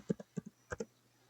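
Six quick keystrokes on a computer keyboard, tapped in two short bursts with a brief pause between, close and crisp against a quiet background.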